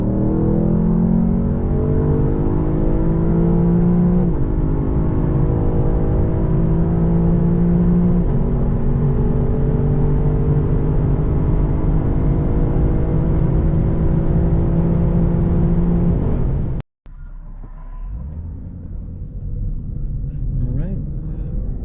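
Lexus LC 500 fitted with a Blitz carbon intake and cone filters pulls hard from third gear up through fifth, a loud, continuous engine roar climbing in pitch with brief drops at each shift, then cutting off abruptly to quieter cruising rumble.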